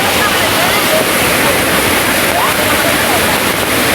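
A waterfall on a flooded Konkan river gives a loud, unbroken rushing roar that stays steady throughout.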